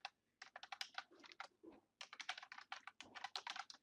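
A computer keyboard clicks as an email address is typed into a course registration form, in two quick runs of keystrokes with a short break between them. The typing is close but quiet, with no voices.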